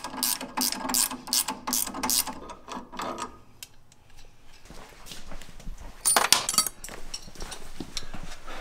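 Rapid ratchet wrench clicking, loud and close, as sway bar links come off a Jeep JL Wrangler during a lift kit install, followed by a quieter pause and then more metallic clicks and clanks.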